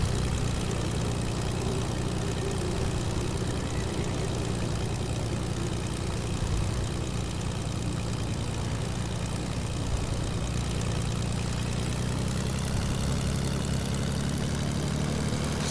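A propeller airplane engine in a video game drones steadily and loudly for the whole stretch, a continuous low hum with no voices.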